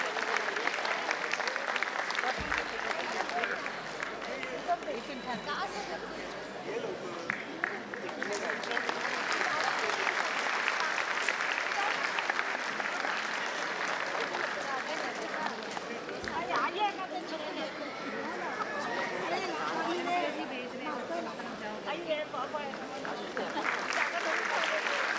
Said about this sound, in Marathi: तेव्हा तुम्ही जोरदार टाळ्या वाजवा